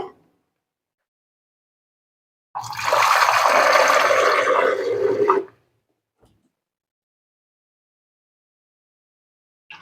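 Water pours into a bowl of jaggery in one continuous splashing stream lasting about three seconds, close and fairly loud, with near silence before and after.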